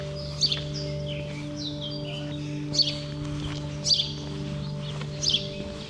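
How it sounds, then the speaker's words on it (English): Bright bird chirps and trills ring out repeatedly over a steady low hum on a sunny day in Varosha, the abandoned town in Cyprus, with several louder calls standing out at intervals. "Listen to the birds."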